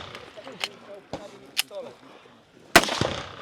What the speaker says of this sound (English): 9 shots with the pistol